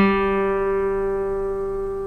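An acoustic guitar rings out a plucked open third-string note from a Happy Birthday lesson, sustaining and slowly decaying with no voice over it.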